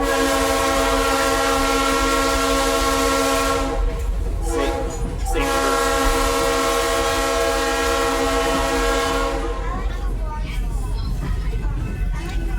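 A train rumbles close by with a steady, loud roar and sustained horn-like tones, briefly dipping midway before the clatter resumes.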